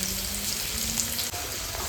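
Mustard seeds, cumin and curry leaves sizzle in hot oil, a short, steady, close hiss with a faint crackle and no talking.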